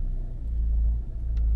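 A car passing on a rural road in Durbuy, Belgium, heard as a steady low rumble of engine and tyres that swells and holds close by, loud and alone with no speech.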